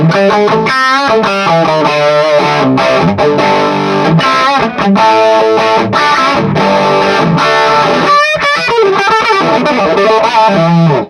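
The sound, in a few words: guitar through Supro 24 clone with overdrive distortion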